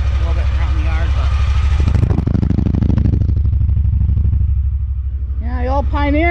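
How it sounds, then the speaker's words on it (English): Old Pioneer vehicle engine idling steadily in a yard in Mexico, a close, continuous low exhaust rumble with rattling, and a voice speaking over it near the end. "I'll start this up and let it run. Let's go listen to the exhaust on it."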